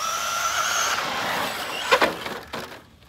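An Arrma Senton 3S Exo RC car running on a 2S battery makes a steady high motor whine for about two seconds, then a brief scuffing burst and a fade to near quiet.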